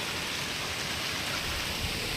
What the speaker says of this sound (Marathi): खूप पाऊस जोराचा पाऊस चालू झाला